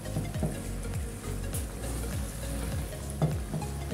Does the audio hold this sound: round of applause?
no